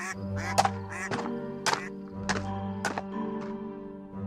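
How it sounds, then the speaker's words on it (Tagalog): Ducks at feeding time quack repeatedly in loud, close, irregular bursts, several calls overlapping with soft thumps between them. "kailangan ko na munang pakainin lahat ng mga bibe"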